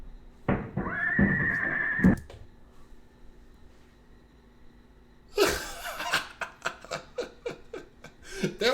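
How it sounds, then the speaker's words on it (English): A horse whinnies loudly in a long, shaky neigh. After a quiet gap comes a second burst of neighing and snorting that breaks into rhythmic, pulsing calls, with no speech over it. "That horse sound healthy to me."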